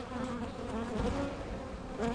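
Honey bees on nearly empty hive frames in mid-July make a dense, steady, close buzzing drone with no talk.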